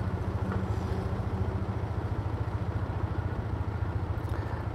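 A custom Kawasaki 220 motorcycle engine idles close by with a steady, even low thumping pulse and faint mechanical clatter, no talk over it.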